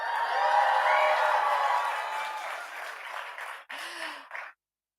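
An audience at a poetry event cheers and whoops loudly at first, then fades into scattered applause and a few shouts before going quiet.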